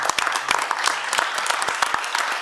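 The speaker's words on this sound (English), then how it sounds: "let's give her a round of applause" Audience applause at a county fiscal court meeting for a ten-year government anniversary: sparse, uneven clapping from a modest group in a room, individual claps distinct and fairly close.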